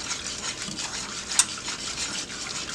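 Cornmeal porridge whisked in a pot over medium-high heat, a quick rhythmic scratchy swishing of the whisk with one brief metallic clink.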